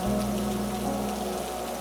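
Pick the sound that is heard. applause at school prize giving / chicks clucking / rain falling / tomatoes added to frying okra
rain falling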